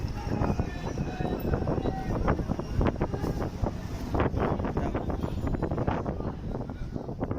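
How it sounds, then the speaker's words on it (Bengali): Steady outdoor wind gusts and roars against the microphone throughout, a loud continuous rush with no clear pauses. "সুন্দর বাতাস, আপনারা আয়েন আইসা বাতাস খাইবেন।"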